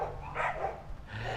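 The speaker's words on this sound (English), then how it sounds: "Always so many dogs here barking at me." Several dogs barking from behind a gate in Sutiava, Nicaragua, a quick run of moderately loud, slightly distant barks and yips over a low background hum.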